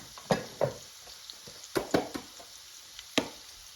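Onions fry in a pan for a chicken tikka bhuna, a faint background sizzle broken by several sharp stirring scrapes and taps, with no voices.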